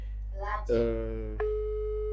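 A telephone call rings out during a French-language radio broadcast: a steady electronic ringback tone, clear and close on the line, preceded by a short burst of speech.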